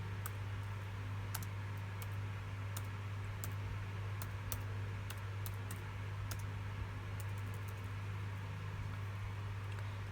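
Keys on a MacBook Pro A1502 keyboard, tested after a logic board repair, are tapped one by one in sparse, irregular clicks over a steady low electrical hum.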